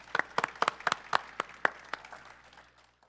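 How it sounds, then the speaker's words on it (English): Sparse hand clapping from a small church congregation, a handful of distinct claps spaced across a few seconds that fade out toward the end. "Just one more round of applause for that selection."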